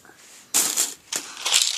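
Paper packaging crumpled during unboxing of a bowl, cup and topping set, giving loud close crinkling bursts with short pauses between them.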